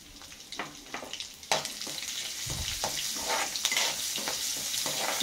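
Crushed garlic cloves frying in hot oil in a pan for a ridge gourd chutney, a steady close crackling sizzle with intermittent bursts and stirring scrapes, no talking.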